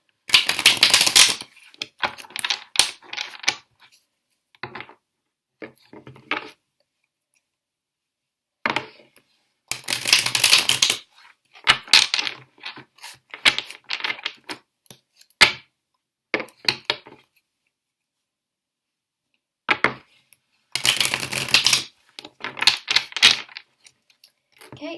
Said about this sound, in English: I am going to take the cards and I am going to shuffle 3 times